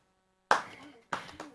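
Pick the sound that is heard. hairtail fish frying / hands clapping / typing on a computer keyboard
hands clapping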